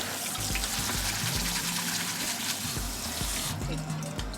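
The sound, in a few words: tap water running to cool food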